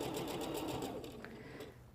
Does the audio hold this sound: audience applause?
no